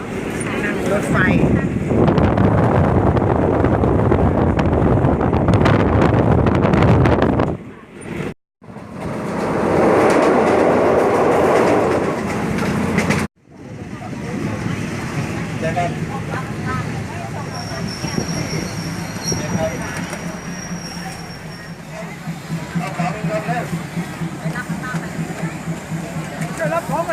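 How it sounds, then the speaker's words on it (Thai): Inside a moving passenger train, a loud continuous rumble of wheels and carriage noise fills the space, dropping out briefly twice before resuming; people talk throughout. "นี่คือบรรยากาศการนั่งรถไฟ"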